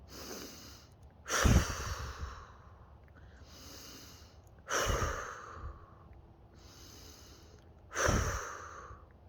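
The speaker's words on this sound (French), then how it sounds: "on continue à faire ces grandes inspirations" Slow, deep breaths sound close by during a guided relaxation session, three strong exhalations spaced a few seconds apart with quieter inhalations between them.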